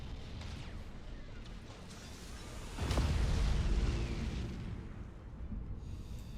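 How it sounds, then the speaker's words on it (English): Massed Nova Cannon fire in the space strategy game Battlefleet Gothic Armada 2 gives a heavy rumbling blast that swells midway over a dense roar of battle noise and then slowly fades. "Let's see how massed Nova Cannons work in this position."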